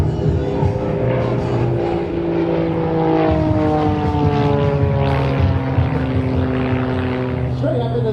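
A Pitts S2 aerobatic biplane at an air show drones overhead with a loud, steady propeller and engine note, its pitch sliding gradually as it climbs and rolls, heard continuously from the ground.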